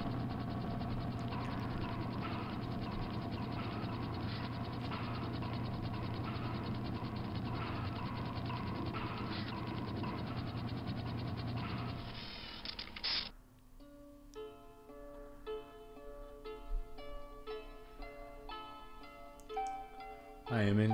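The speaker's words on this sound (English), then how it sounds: "The elevator's on." Elevator machinery in the 2001 video game Nacah clanks as a loud ratcheting, gear-driven grind for about 13 seconds, then cuts to sparse clicks and mechanical taps.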